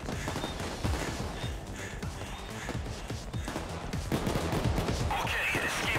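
PAYDAY 2 shootout with bursts of gunfire crackling through a busy, dense mix, steady and mid-distance, with other game noise around it.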